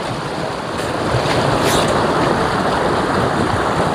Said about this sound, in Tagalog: nandito tayo ngayon sa ilog, naliligo